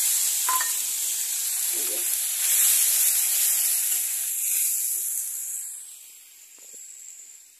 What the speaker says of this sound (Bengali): এখন মশলা এরকম ভাজতে হবে